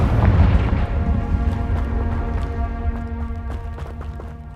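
A Confringo spell explosion in the video game Hogwarts Legacy detonates with a loud booming blast at the start, then a rumbling, tonal tail that slowly fades over several seconds.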